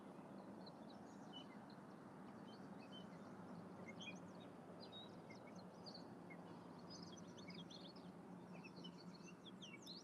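Small birds chirp and tweet in scattered bursts throughout, fairly faint, over a steady broadband outdoor rumble at a summer catfish-fishing spot.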